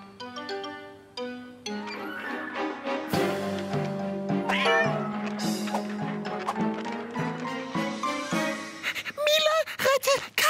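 A cartoon cat meows repeatedly in drawn-out, wavering cries, close and fairly loud, with a few shorter yowls near the end over a soft musical background.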